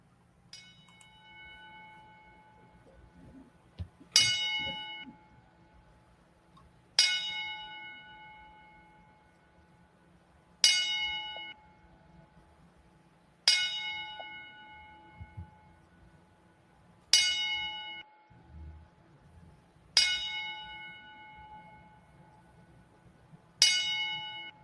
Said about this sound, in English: give him a little 10-bell salute.